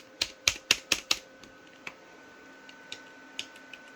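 Keys on a computer keyboard are pressed in a quick burst of five sharp, close clicks, followed by scattered single taps at uneven intervals.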